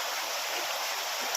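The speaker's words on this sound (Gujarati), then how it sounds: "મસ્ત ખળખળતી નદી વહી જાય છે" A gurgling river on the Girnar parikrama route flows with a steady, close rushing hiss of water that continues evenly throughout with no voices.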